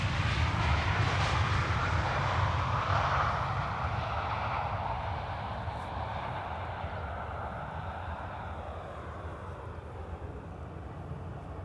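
Transavia airliner landing at Amsterdam Schiphol Airport on a morning arrival: a broad, steady jet roar heard from outside, loudest at first and then slowly fading as the plane passes, with no talking.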